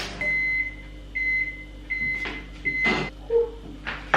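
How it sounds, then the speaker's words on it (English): A microwave oven heats a muffin with a steady hum and a thin high tone, broken by a few soft clunks and rustles nearby. "Me waiting for my muffin to microwave."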